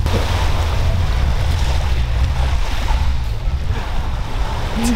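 Sea waves washing onto a beach in Turkey, a steady broadband rush of surf heard close and loud throughout, with strong wind buffeting the microphone and no voices.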